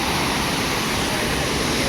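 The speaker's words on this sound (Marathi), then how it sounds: "हा बघा दोन हजार पंचवीसचा पहिल्यांदा असा पाणी आलं आहे वर्षी धबधबा कसा वाटतं" Sawdav waterfall in the Konkan region flowing strongly, a steady, dense broadband roar of rushing water that stays unbroken and even throughout.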